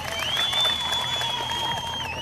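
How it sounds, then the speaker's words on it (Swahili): Audience applause at a Narok County speech, a dense, steady patter of clapping from a crowd with a sustained whistle tone running through it. "Hebu mjipigie makofi"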